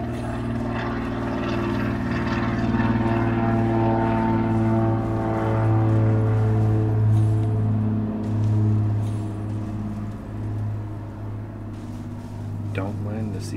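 A seaplane's propeller engine drones steadily overhead in an outdoor setting, a loud sustained hum that swells and fades slightly across the clip, with a voice talking over it.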